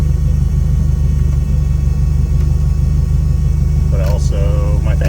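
A 1987 Toyota van engine idles steadily with a low, constant rumble throughout, while a voice briefly speaks over it near the end.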